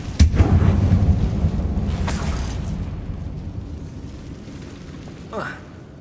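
A Confringo spell explosion in Hogwarts Legacy inside a closed mine tomb, a sharp loud burst at the start followed by a long rumbling roar that slowly fades, with a voice speaking over it.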